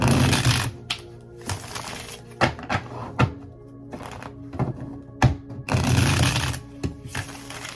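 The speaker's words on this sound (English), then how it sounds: "Let's shuffle up and do some clarification and find out what's going on." Tarot cards are shuffled in bursts of riffling between sharp taps and thuds as the deck is squared and handled, close and clear, with no voice over it.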